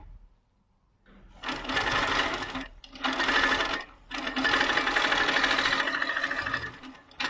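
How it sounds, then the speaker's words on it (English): A Pro-Stitcher Lite computerised quilting machine stitches edge to edge across a quilt, running in three steady buzzing bursts separated by short pauses, close and fairly loud with no talk. "Now it's doing the locking stitches that Liz defined."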